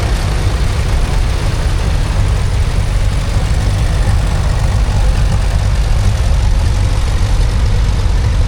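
Vintage tractors rumble around a festival arena in a transport parade, a loud, continuous low engine drone close by that holds steady throughout with no talk.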